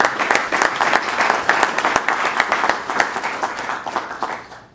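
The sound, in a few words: audience applause for debate candidates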